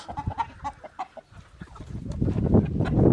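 An Indian rooster, the lead bird of a backyard flock, clucks in a series of short, fairly close calls, then a louder, denser burst of fowl noise swells toward the end.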